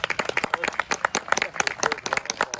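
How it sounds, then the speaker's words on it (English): Outdoor crowd at a ribbon cutting for a new exercise trail and dog park applauding, a brisk patter of close, uneven hand claps filling a couple of seconds, with faint voices mixed in. "Absolutely a round of applause."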